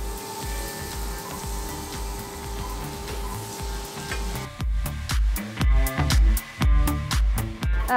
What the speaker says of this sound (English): So I'm just gonna sear now my gnocchis.